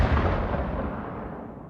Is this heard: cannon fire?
yes